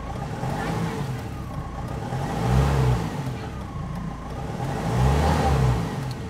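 A Mahindra Scorpio engine with a delayed-pickup problem revving under acceleration, a mid-pitched engine drone swelling twice into louder surges amid road noise, with faint talk underneath.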